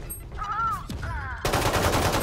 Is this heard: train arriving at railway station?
no